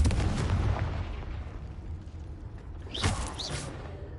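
A Confringo blasting spell explodes in the Hogwarts Legacy video game: a rumbling, crackling blast fades, then a sharp burst with bright whooshing streaks erupts near the end.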